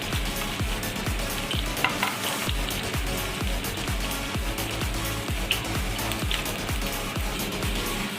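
Pakistani chapli kababs frying in oil, a dense, steady crackling sizzle close up, with occasional soft scrapes as they are lifted out.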